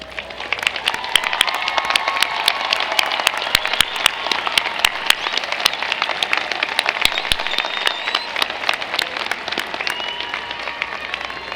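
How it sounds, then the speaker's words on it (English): Sustained audience applause at a CSUN 2019 commencement ceremony for the College of Social and Behavioral Sciences, a dense, steady wash of many hands clapping for honors graduates, loud and continuous throughout with no speech over it. "please rise and receive our applause"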